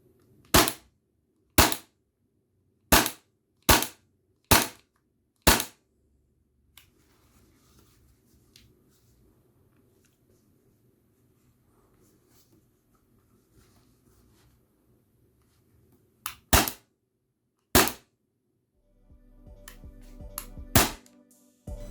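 Sharp shots from an Action Army AAP-01 blowback airsoft pistol, six in quick succession, then a pause with faint handling noise before a few more snappy cracks near the end.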